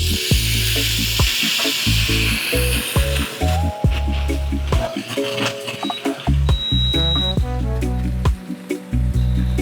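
Honey garlic pineapple prawn skewers sizzling on the heat while being brushed with marinade, a steady close sizzle with clatters and knocks over it, no speech.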